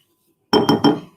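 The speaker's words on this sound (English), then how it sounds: "I'll use my little spatula to get this out" A small spatula scoops peanut butter from a glass jar, striking the rim in three quick, close, bright clinks about a sixth of a second apart.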